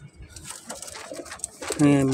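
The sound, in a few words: pigeon cooing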